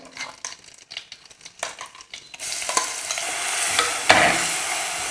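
Crushed green chili, ginger and shallots drop into hot coconut oil for a fish and raw mango curry: a few soft scrapes and taps first, then a sudden loud, steady sizzle with stirring clatter.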